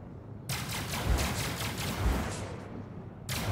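Ship turrets in the space game Star Citizen fire a rapid burst of automatic rounds for about three seconds. The shots are dense and even, fairly quiet, with a short second burst at the end.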